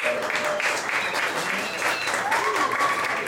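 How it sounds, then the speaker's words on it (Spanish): Enthusiastic audience applause at a live music venue, Cauz, as a band member is introduced: sustained dense clapping with whistles and cheering voices rising through it. "Un fuerte aplauso, por favor."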